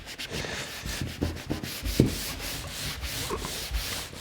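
Beeswax being polished by hand into a wooden door, a steady close scrubbing rub with repeated stroke bursts and occasional knocks against the wood.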